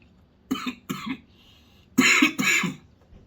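Coughing fit after inhaling food while chewing: two short cough bursts, then two louder, harsher coughs with a throat-clearing quality, close and alone without talk.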